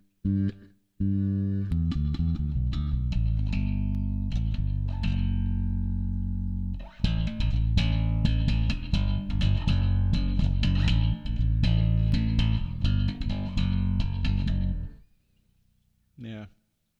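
Bass played through a reverb effect on a Zoom B6 pedal, sustained notes and chords ringing out with long decaying tails, loud and close, breaking into silence near the end before a brief final note.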